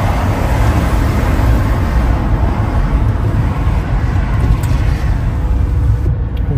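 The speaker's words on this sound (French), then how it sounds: "Il y a énormément de véhicules." Dense road traffic in Chicago, a steady loud broadband rumble of many cars and buses passing close by, continuous with no pauses and no talking.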